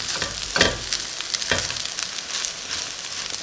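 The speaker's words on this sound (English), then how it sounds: "That butter and the rice toasting in that butter, it's really exceptional." Rice toasting in melted butter in a pan, a steady bright sizzle with a couple of louder scraping stirs early on, close and continuous, no talking.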